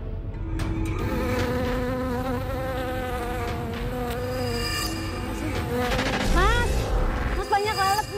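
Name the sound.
many flies buzzing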